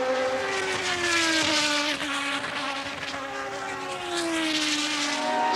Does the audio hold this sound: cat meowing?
no